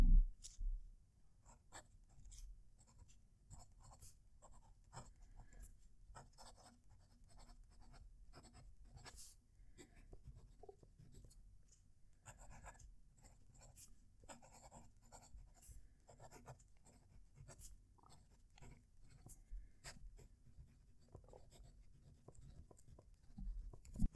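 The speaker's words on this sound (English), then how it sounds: "Let's fetch in and do our live writing sample." A TWSBI Eco fountain pen writes on Fabriano paper, giving faint, continuous scratchy nib strokes close up in a quiet room for about twenty seconds, with no talking.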